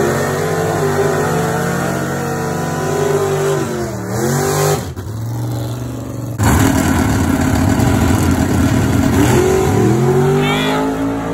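A 1984 Chevy S10 with a 427 small block engine at a drag race, loud and close, roaring as it revs, dropping briefly mid-run, then surging into a harsh sustained high-rpm blast.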